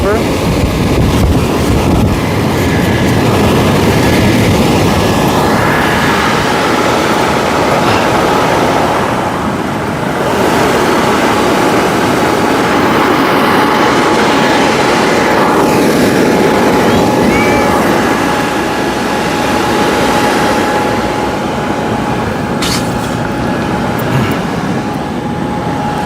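Loud, steady roar of 950W and 550W electric blowers inflating a 26.2 by 13.1 by 10 ft inflatable paint booth, a continuous whooshing rush with a faint tonal hum throughout.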